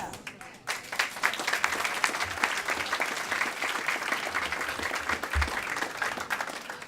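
Audience applause fills a budget engagement forum hosted by the mayor, a dense, steady clapping from a sizable crowd that swells after a moment and carries on loudly without pause.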